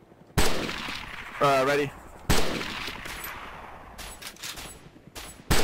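Gunfire in DayZ Overpoch, several sharp close gunshot bursts with silences between, one loud rattling volley, while a voice speaks briefly.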